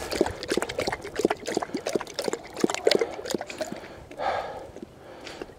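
A dog named Ripley laps water poured from her own bottle outdoors on a trail, with quick wet slurping and splashing bursts up close, followed by a trickle of pouring.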